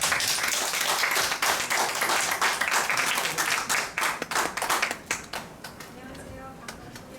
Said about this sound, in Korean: 좋은 강의 부탁하는 의미에서 박수로 청해드립니다